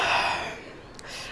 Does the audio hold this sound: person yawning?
yes